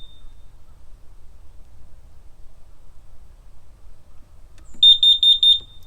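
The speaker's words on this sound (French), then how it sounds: "L'appareil va faire 4 bip bip 2 fois." After several seconds of near silence, a carbon monoxide detector being tested gives a quick burst of four shrill, high-pitched beeps close by.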